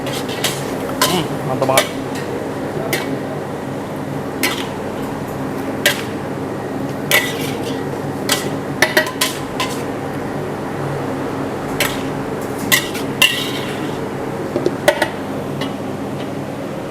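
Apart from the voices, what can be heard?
tossing bean sprout and dried shrimp stir-fry in pan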